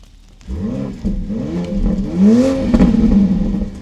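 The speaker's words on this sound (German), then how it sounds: "Die Auspuffe sind echt und der Sound" A BMW X3 M50 SUV engine revs repeatedly through the exhaust, the pitch rising and falling in throaty pulses, loud and close.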